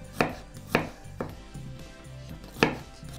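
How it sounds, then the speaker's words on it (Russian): A knife chops a single garlic clove finely on a board, four sharp distinct knocks at irregular intervals, close and clear over a faint steady background hum. "Его нарезаем мелко, именно нарезаем, а не пускаем под пресс."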